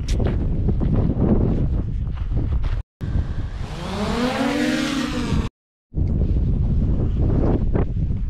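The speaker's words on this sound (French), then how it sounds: "il y a un peu de vent" Strong wind at the Col de Larche buffets the microphone in loud, rumbling gusts, broken by a couple of brief dropouts and a whining drone motor tone in the middle.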